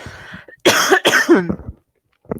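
A person coughs a couple of times close up, harsh and throaty, then trails off into a short pause and a faint final sound.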